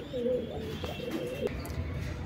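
A pair of pigeons coo in a short, steady stretch of low throaty calls, fairly close, over a constant background hum.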